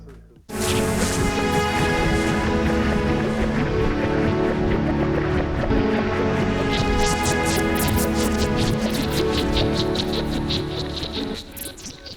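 Dense, shimmering electronic soundscape from a Digitakt sampler, layered, looped textures built from the same heavily tweaked samples, loud and continuous, with crackly high flutters swelling toward the end before fading.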